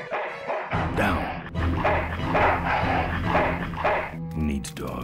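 A dog in the video game Full Throttle Remastered barks in a steady series of loud, repeated yaps, running continuously through the stretch with other game sounds underneath.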